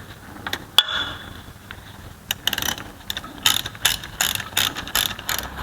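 Ratchet wrench tightening a bolt on a turbocharger oil line fitting of a Peugeot 3008, a close series of sharp metallic clicks in uneven bursts, growing quicker and denser toward the end, with no talking.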